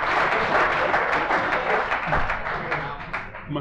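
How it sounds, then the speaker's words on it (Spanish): Dense, loud applause fills the room at a homebrewing competition awards gala, many hands clapping at once in an even, continuous wash with a few voices mixed in. "un fuerte aplauso, venga"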